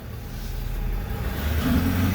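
A pickup engine, a 3.5 EcoBoost or 6.7 Powerstroke diesel, rumbles low and steady just before a drag race, swelling slightly toward the end, close and fairly loud with no talk.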